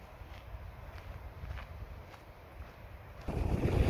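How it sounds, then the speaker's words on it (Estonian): Strong wind buffets the microphone at a sea shore with high waves, a rough continuous rushing that grows louder and heavier toward the end. "Täna on päris tuuline, lained on päris kõrged"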